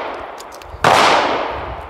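A sudden sharp metallic clack as moon clips loaded with .45 ACP cartridges snap into the cylinder of a World War One M1917 Colt revolver, one clear strike rising out of a quiet room and ringing off briefly.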